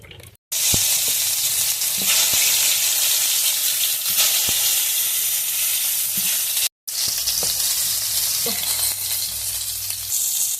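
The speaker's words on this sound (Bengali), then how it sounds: "তেল দিয়ে দিচ্ছে কড়াইতে" Continuous loud sizzling of turmeric-coated spiny gourd pieces frying in hot oil in a wok, with a couple of brief cuts and occasional clinks of a utensil.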